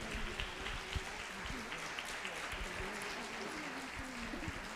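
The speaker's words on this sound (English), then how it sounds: "Come on, stand up so that they can give you a round of applause." An audience at a school-district Black History concert applauds a standing guest, quiet and distant, with voices mixed into the clapping.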